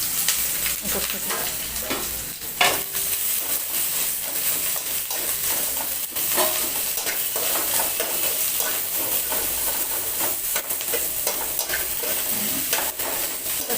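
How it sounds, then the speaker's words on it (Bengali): Chopped onions frying in a small amount of hot oil for a vegetable curry, a close, steady crackling sizzle with frequent scraping stirs in the pan throughout. "তেলটা গরম হয়ে গেছে আমি এবারে পেঁয়াজ কুচিগুলো সব দিয়ে দিলাম"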